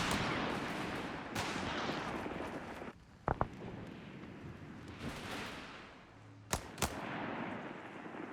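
Mortar and gunfire in the Company of Heroes 3 video game, with a steady wash of battle noise broken by a few sharp loud reports and booms.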